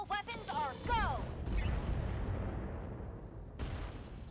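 Mech weapons in the game RogueTech open fire on a wheeled APC, a cluster of booming shots and impacts followed by a rumbling tail and a final sharp hit, with synthetic voice blips at the start.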